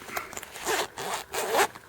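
A zipper on an Astro-Physics telescope keypad carrying case is pulled open in a few quick, raspy strokes, close up and loud, with short pauses between pulls.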